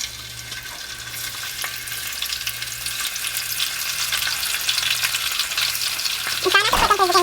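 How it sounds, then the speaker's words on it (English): Delicate swai fish and shrimp frying in hot oil for a Kenyan coconut curry, a dense steady sizzle that grows louder toward the end, with a clatter near the close. "now our oil is all nice and hot, so I'm just going to put the fish and shrimp in there to fry up"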